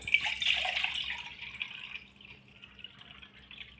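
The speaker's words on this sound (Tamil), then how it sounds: "தண்ணி ஊற்றிடலாங்க" Water pours steadily into a pot, a bright splashing rush at first that settles into a softer, continuous trickle.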